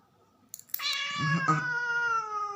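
A cat meows clearly and close by, one drawn-out cry after a few soft clicks and rustles, tapering off slowly.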